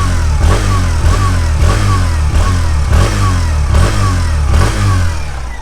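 A Hero Passion Pro Xtec 2022 motorcycle runs close up, its exhaust note a loud steady thrum with regular pulsing revs every half second or so throughout.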